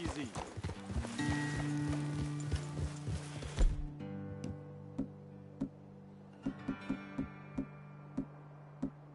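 Horses in Red Dead Redemption 2 walking on hard ground, a clear run of clip-clop hoofbeats at an irregular pace, first under music that cuts out, then nearly alone, with a faint voice at times.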